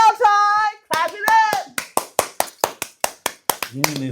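A person speaks briefly, then claps in a quick, even rhythm of about a dozen sharp, close claps, and a voice returns at the end.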